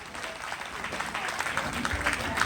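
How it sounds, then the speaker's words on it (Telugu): An audience at a church skit at a Lutheran church claps in steady, moderately loud applause that swells slightly toward the end. "నమ్మినట్లయితే చప్పట్లు కొట్టవలసిందిగా కోరుచున్నాను"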